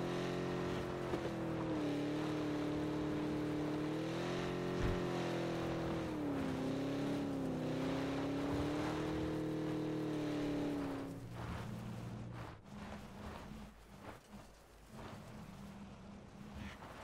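A vehicle engine drones steadily in PUBG while driving near the end circle, its pitch rising and falling with throttle changes before easing off to a lower rumble near the end.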